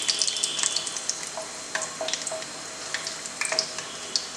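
Whole black pepper, cloves and green cardamom shallow frying in hot oil for a mountain-style chicken curry, with a steady soft sizzle and scattered sharp crackles and pops.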